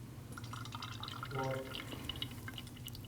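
Brake fluid dripping and trickling from an opened brake bleeder on a 2013-2019 Ford Escape, a soft steady liquid patter against a constant mechanical hum, rising briefly midway.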